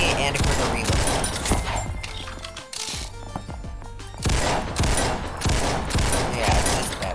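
Rapid bursts of gunfire from a shotgun in the video game Ragdoll Universe, loud and dense with a short lull in the middle before the shooting resumes, while someone talks over it.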